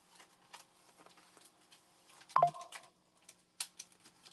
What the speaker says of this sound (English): My phone dinged.